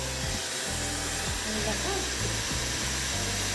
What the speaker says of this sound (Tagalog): Xiaomi Compact Hair Dryer.